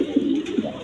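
Colored Golla Giribaz pigeons coo nearby in soft, low repeated phrases, two or three throaty swells, with faint background noise.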